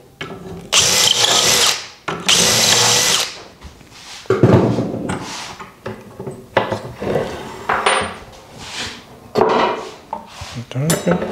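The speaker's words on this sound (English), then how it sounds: "and drill 3 and 4" A power drill bores dowel holes in a wooden dresser panel with an indexing pin jig, in several loud bursts separated by short pauses and clattering handling of tools and wood.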